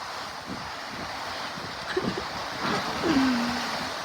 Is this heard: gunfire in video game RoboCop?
no